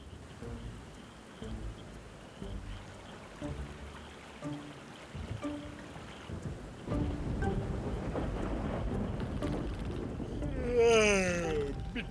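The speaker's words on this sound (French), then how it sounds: "C'est de la pluie." Rain pours steadily through a night thunderstorm in a cartoon camping scene, with a louder surge of downpour and rumbling partway through, and a brief whistling tone near the end.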